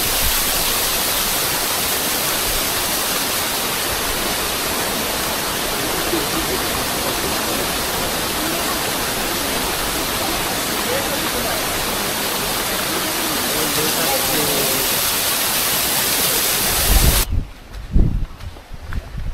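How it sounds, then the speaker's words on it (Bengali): Kataldhar waterfall during the monsoon, a dense continuous roar of rushing water that stays loud and even, then cuts off abruptly near the end into faint handling noise. "এই যে ঝর্ণাটা"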